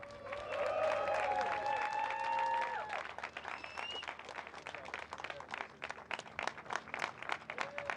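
Crowd at the Balaton Park circuit in Hungary applauding the first race winner of a motorcycle World Cup round, sustained clapping from a large gathering, with tones ringing and a voice over a speaker early on.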